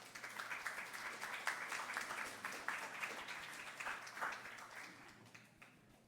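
Faint applause from a conference audience, scattered clapping rising and falling for several seconds, distant and soft, fading toward the end.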